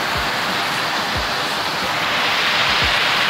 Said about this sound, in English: I'm coming right down over here to where you can see the waterfall